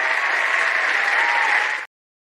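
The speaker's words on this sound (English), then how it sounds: "Avi says that deserves applause." Studio audience applause on a live talk show, a steady full burst of clapping that stops abruptly, heard alone without talk.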